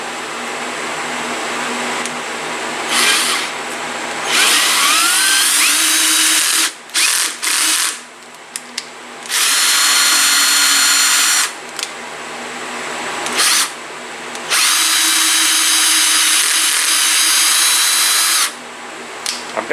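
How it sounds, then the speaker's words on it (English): A cordless drill with its clutch set low drives an M5 x 0.8 tap into a thick metal casting, whining loudly in repeated long bursts with short pauses and clutch stutters between them. "I've got the clutch set on 5 on my drill so I don't break the tap off."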